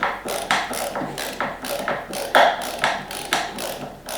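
A PB Swiss ratcheting screwdriver clicks steadily while loosening a screw, a close, loud series of rhythmic mechanical ratchet bursts roughly every quarter second, with no voices.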